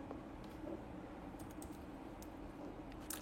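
Faint, soft clicks of fingers typing an email on a computer keyboard, a quick uneven patter of keystrokes in a quiet room.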